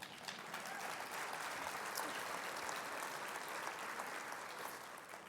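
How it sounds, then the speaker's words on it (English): A dinner audience at a peace officers' conference in Salt Lake City applauds steadily, a dense, even wash of many hands clapping that holds at a moderate level throughout with no voices over it. "I love that you're clapping."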